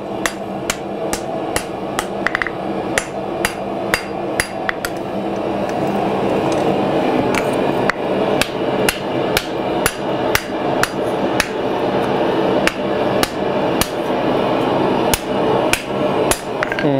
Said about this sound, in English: Now I should be able to just kind of hammer on it and collapse it on down.